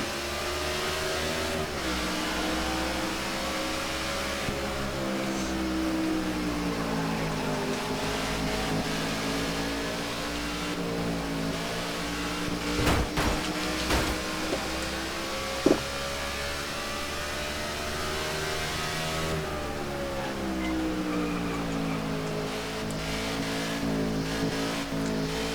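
NASCAR '15 race cars at New Hampshire Motor Speedway surge off the green flag, a dense layered roar of engines revving and climbing in pitch, steady and loud throughout with a couple of sharp spikes midway and no voices.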